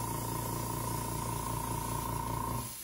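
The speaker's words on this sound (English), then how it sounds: "spraying multiple coats on the bill" An airbrush sprays several coats of yellow oxide and yellow deep paint onto the bill of a carved black duck drake decoy head, a steady close hiss with a faint hum underneath that cuts off just before the end.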